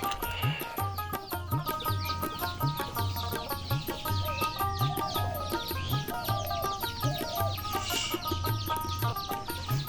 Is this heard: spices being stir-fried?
no